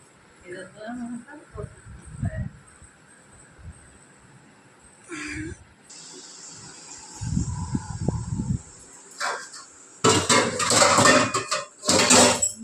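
An idli steaming pot being handled in a home kitchen, with metallic clanks and scrapes coming in bursts, sharper clatter near the end, alongside brief speech.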